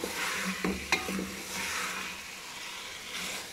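Okra masala fries in a pan with a steady, moderate sizzle, and a few short stirring scrapes stand out near the start.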